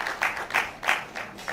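An audience at a conference opening ceremony claps in a few loose swells, moderately near and fairly thin, with rhythmic bursts of applause and no voices.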